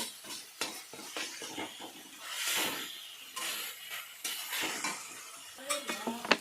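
Green chilli and cumin for a Bengali poppy-seed fish curry base frying in a pan, with light sizzling under repeated stirring scrapes and clinks of a utensil against the pan, close and moderately loud.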